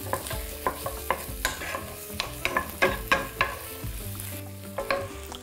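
Pepper stirred and frying in a pan for a shrimp salad, a steady close sizzle broken by repeated scraping and clacking stirs, with no talking.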